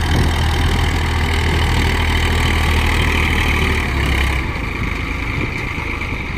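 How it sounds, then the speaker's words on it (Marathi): A tractor engine idles loudly and steadily with a deep rumbling drone, close by, with no talk over it, on a farm while a seed drill is set up for chickpea sowing. "ट्रॅक्टर आलेला आहे इकडे"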